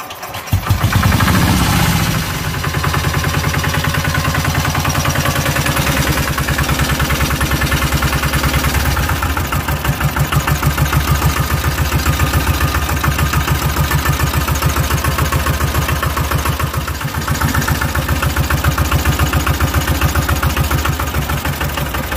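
Tricycle CD engine under repair for a starting problem fires up with a loud burst, then settles into a steady, rattling, close idle that chugs on evenly for about twenty seconds with no voices.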